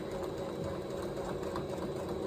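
A sewing machine runs steadily, top-stitching around the upper edge of a quilted fabric basket, a continuous even whir at moderate level with no pauses.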